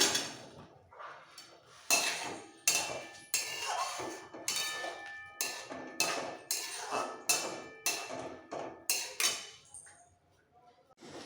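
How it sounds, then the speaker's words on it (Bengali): Fried green banana koftas go into a gravy pan with a run of sharp metallic clinks and knocks from spoon and pot, roughly a dozen irregular hits, close and clear over quiet. "ভেজে রাখা কোপ্তাগুলো সব দিয়ে দিচ্ছি"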